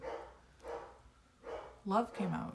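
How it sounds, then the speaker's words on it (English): Dogs bark in a few short bursts, clear yelps and woofs a little distance away, with breathy pauses between them. "My dogs are barking like crazy."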